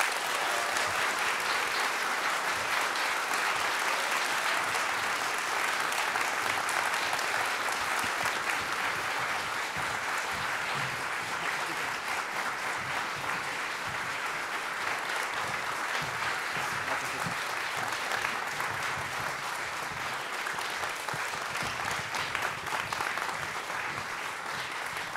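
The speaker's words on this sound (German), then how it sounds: "Ich bitte euch um einen herzlichen Applaus für unser großartiges Podium heute." An audience at a Wikimedia-Salon panel event applauds its panel with dense, steady clapping that stays loud and unbroken for the whole stretch, with no talk over it.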